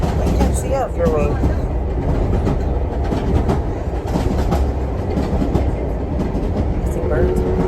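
The Jacobite steam train on its rails: a loud, continuous rumble and rattle of carriages heard from on board, with a faint squeal of wheels and people talking underneath.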